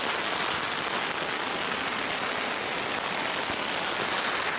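Steady rain pours down outdoors, a dense, even hiss of drops that holds constant throughout with no voices.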